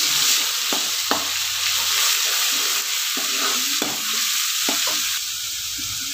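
Ginger, garlic and coriander paste fries with onion in a hot pan, a steady loud sizzle running throughout while a spoon stirs it in a few scraping strokes.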